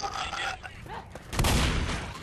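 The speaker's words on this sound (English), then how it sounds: "Ah, there's gunfire everywhere!" Bursts of gunfire crackle in a round of the zombie shooter Left 4 Dead, rapid shots rising in a loud cluster midway after some muffled game sounds and brief voices.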